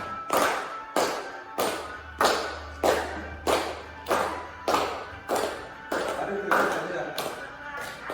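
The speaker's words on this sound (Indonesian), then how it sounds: "Ya, kita tepuk tangan." Children clapping hands together in unison in a classroom, about a dozen loud, evenly spaced claps in a steady rhythm, close by.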